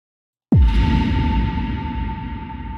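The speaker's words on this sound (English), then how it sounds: "There you have a impact sound." After half a second of silence, a single heavy impact sound effect built in FL Studio hits hard, then a long drenched reverb tail with a steady ringing tone slowly fades.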